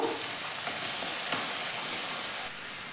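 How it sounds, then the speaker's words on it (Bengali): Spice paste (masala) for rui posto frying in a pan, a steady close sizzle with faint stirring scrapes that drops slightly in level near the end. "মশলাটা ভালো করে একবার কষবো।"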